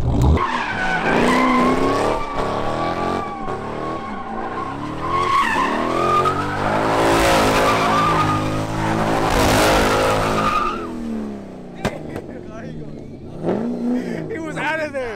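Car tires spin and squeal in a long skid, the engine revving hard in first gear for about ten seconds before cutting off. The sound is loud and close, with excited voices talking over it afterward.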